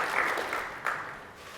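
A brief burst of audience clapping at a Unite 2016 developer conference talk on VR performance, moderately loud, with a second surge before it thins out.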